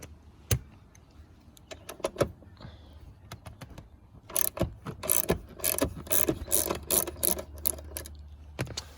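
Ratchet wrench loosening a 10 mm nut on a Ford EF/EL Falcon, a few scattered clicks at first, then a fast run of quick ratcheting clicks, close and fairly quiet.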